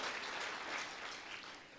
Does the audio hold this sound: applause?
yes